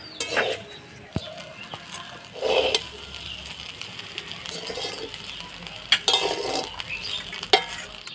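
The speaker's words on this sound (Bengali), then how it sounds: "ভাত দিয়ে ভালো করে নাড়াচাড়া করে নিলাম" Fried rice being stirred in a pan, with scraping and clinking bursts of a spoon against the metal over a soft sizzle, close by, in a home kitchen.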